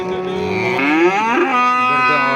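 A cow moos in one long, loud, drawn-out call close by at a livestock market selling sheep and cattle.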